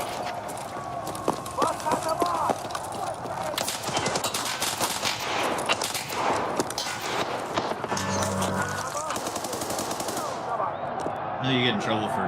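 Gunfire in a first-person shooter video game: rapid automatic bursts and single shots crackle repeatedly, close and loud, with running footsteps and voices talking over the action.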